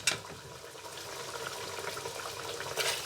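Mutton yakhni broth, two cups, pours into a cooking pot for pulao, giving a steady close liquid splashing and trickling that swells briefly at the start and near the end.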